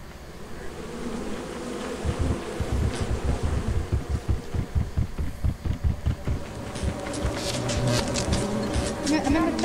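Insects buzz in the video game Lethal Company, close and swelling in dense pulsing waves that grow louder toward the end, with faint talk underneath.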